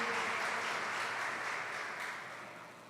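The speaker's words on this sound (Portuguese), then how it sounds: "Vamos aplaudir a Deus pela vida dele." Church conference congregation applauding a visiting pastor, a faint wash of distant clapping from a large hall that slowly fades toward the end.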